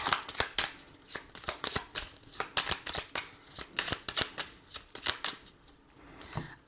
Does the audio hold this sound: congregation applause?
no